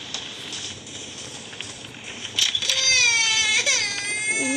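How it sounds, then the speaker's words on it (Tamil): An infant's cry in the horror video game Baby in Yellow: sharp, high wailing cries break out midway and keep rising and falling over faint background ambience. "குழந்தை அழுகுது. நம்ம போகணும்."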